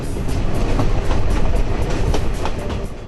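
A freight train runs steadily on rails, its continuous loud rumble and rolling wheel noise carrying through the whole stretch with faint rhythmic clatter and no voices.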